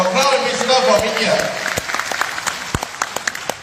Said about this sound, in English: please give a round of applause to our Crown Ambassador from India